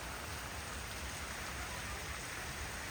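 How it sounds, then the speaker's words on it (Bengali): Heavy monsoon rain pours steadily at a goat farm in Jhargram, a dense continuous hiss of drops drumming on surfaces with no letup and no voices. "এই যে বর্ষা হচ্ছে খুব খুব জোর বৃষ্টি হচ্ছে"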